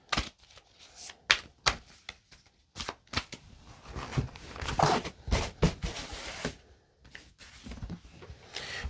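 Tarot cards are shuffled close by in bursts of crisp riffling and slapping, with short pauses between the quick irregular flurries.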